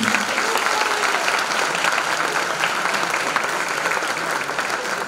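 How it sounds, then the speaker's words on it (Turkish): After a stage comedy show, the audience bursts into loud, sustained applause, a thick, steady roar of clapping lasting several seconds with scattered voices faintly mixed in. "Ayrıca rejideki Fatih Hocama da bir alkış alabilir miyim?"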